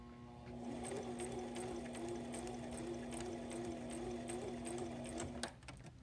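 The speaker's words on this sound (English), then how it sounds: "So you can start sewing and then reverse." A sewing machine runs a continuous straight stitch at standard length along the zipper of a pouch, close and steady with an even mechanical whir, then stops abruptly.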